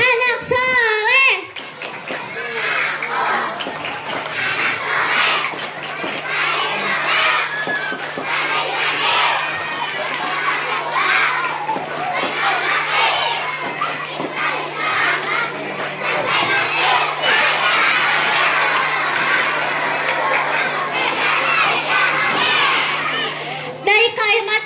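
A crowd of elementary pupils at an Isra Mi'raj gathering at SDN 1 Lewo loudly chant the tepuk anak soleh clapping rhyme, rhythmic shouted verses and claps filling the space, with a voice prompting them briefly at the start.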